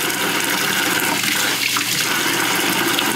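Very warm water from a tap gushes steadily into a plastic home-brew bucket, filling it to the two-gallon mark for a beer extract kit with a continuous close rushing splash.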